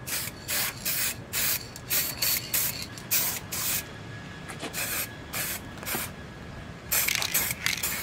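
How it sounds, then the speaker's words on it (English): Spray can bursts of primer and black paint misted onto a Chevy Nova body, a run of short and longer hissing sprays with brief gaps, close and loud, no talking. "So I'm gonna do a second coat of primer just so it grabs real good."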